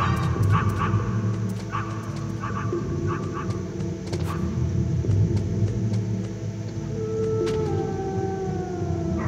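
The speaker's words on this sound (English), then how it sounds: "Where's the dog at?" Dog in the video game Metal Gear Solid, giving several short barks and yips over a steady rumbling game background, with a siren-like tone drifting in later.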